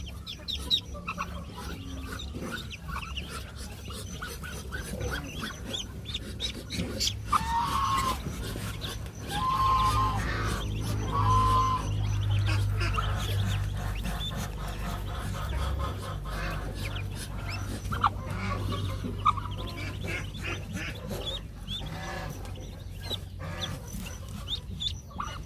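Chickens cluck and crow in a backyard farm kept with Indonesian muscovy ducks, the fowl sounds coming from a moderate distance over a low, steady outdoor rumble.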